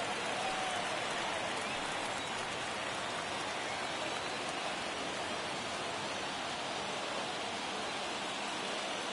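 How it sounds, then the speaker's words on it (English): A steady, dense wash of crowd noise fills a baseball stadium during a ninth-inning World Series game in MLB The Show 22, an even roaring hiss held at constant loudness throughout with no distinct cheers or breaks. "Crowd locked in right now."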